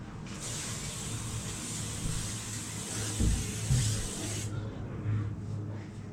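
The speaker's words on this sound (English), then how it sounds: "we're going to spray the curtains" A spray bottle mists curtains in a steady, close hiss lasting about four seconds, followed by a quieter room with faint handling knocks.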